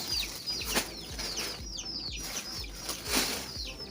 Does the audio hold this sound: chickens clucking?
yes